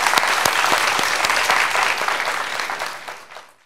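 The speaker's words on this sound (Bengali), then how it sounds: "তার একটু করতালি চাই।" Audience at a Bangladeshi TV magazine show breaks into loud, sustained applause that stays strong for about three seconds, then thins and fades out at the end.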